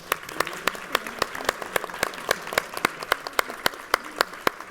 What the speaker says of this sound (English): Can we get a round of applause for our guests, please?